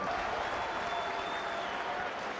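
A crowd of supporters claps steadily at a Wrexham football match, with dense, even applause filling the stadium throughout with no break.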